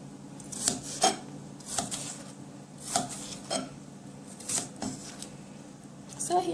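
Chicken feet are cut into small pieces on a board for Jamaican pumpkin soup, giving irregular knife chops and scraping clacks, close and moderately loud, under a person talking.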